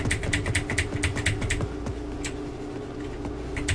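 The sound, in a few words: mechanical keyboard, loud tapping of the W key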